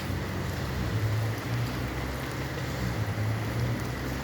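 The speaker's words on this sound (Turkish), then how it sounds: "Yağmur yağıyor arkadaşlar." Rain falls steadily outdoors in Thessaloniki, Greece, by the house where Atatürk was born, a constant even hiss with a low hum beneath and no talking.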